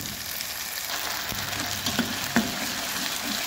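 Masala spices fry in hot oil in a kadhai, a steady soft sizzle running throughout with a couple of brief pops and stir clicks near the middle.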